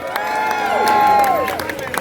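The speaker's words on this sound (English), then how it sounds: "please give them a bigger round of applause" An outdoor crowd cheering, whooping and clapping at the Antigua and Barbuda Carnival 2025 launch, with rising and falling whistles and shouts over scattered applause.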